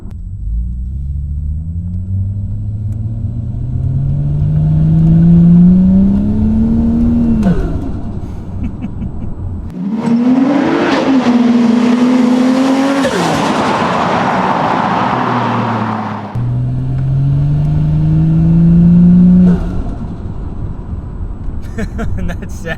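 A built-up car with a German automatic gearbox revs hard through rising gear sweeps, each pull climbing then dropping at a shift, with a loud rumbling burst in the middle; close and continuous, no talk.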